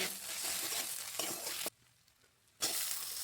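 A spice mixture of red chilli powder, turmeric and salt fries in a pan and is stirred, giving a loud close sizzle with scraping that drops out briefly, then resumes.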